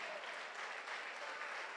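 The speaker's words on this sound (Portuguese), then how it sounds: "E aplaudir a Jesus, aplauda." A church congregation claps together in steady, dense applause, a soft and somewhat distant wash of hands throughout.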